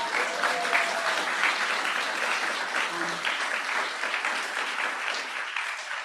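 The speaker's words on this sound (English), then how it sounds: "I think Alia deserves a much louder round of applause." Steady, dense applause from an audience at a talk, a full wash of clapping that holds at an even level throughout and tails off slightly at the end.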